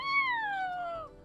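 A voice imitates a kitten's meow, a single thin high-pitched mew gliding slowly downward, faint and alone.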